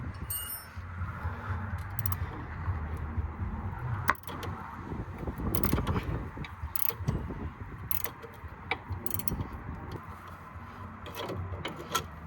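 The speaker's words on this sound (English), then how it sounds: "I'm loosening it from the other side with the 15mm spanner" A 15mm spanner loosening the anti-roll bar drop link nut on a Ford Focus MK2 1.6 TDCI while a second spanner holds the other side, giving scattered metallic clicks and scrapes over a low rumbling background, close and without speech.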